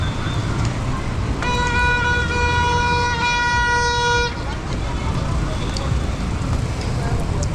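Steady road traffic roars past on a Kampala flyover, a dense wash of engine and tyre noise broken by one long, sustained horn blast near the start.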